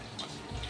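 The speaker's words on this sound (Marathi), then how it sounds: "थोडं धरून त्याच्यामध्ये पाणी टाकायचंय." Water pours into a cooking pan for instant Maggi noodles in a home kitchen: a brief, close splashing trickle with no talk.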